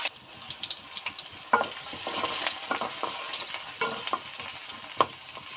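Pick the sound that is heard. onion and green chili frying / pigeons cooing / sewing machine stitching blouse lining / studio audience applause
onion and green chili frying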